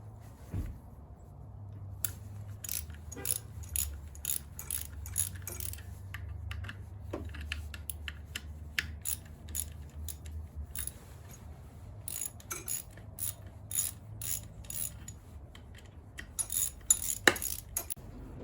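A 10mm socket ratchet works the clutch cover bolts on a Honda Shadow 750 motorcycle, giving close, quick metallic clicks and small tool clinks in an irregular rhythm throughout, with no talking.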